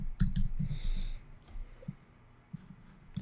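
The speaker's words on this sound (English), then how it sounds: "Sure, if I could type." Quick clicks of typing on a computer keyboard cluster near the start and then thin out into a few scattered, isolated keystrokes, close and moderately loud.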